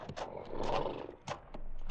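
Horse whinnying and snorting in an old-time radio western sound effect, a drawn-out neigh swelling at mid-clip with a second shorter burst after, close and fairly loud with no talk over it.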